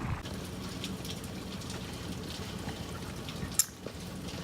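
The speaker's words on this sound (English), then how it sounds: "So it is a rainy day today" Steady rain patters and trickles outdoors on a wet day, a soft, even hiss at moderate distance with one brief knock partway through.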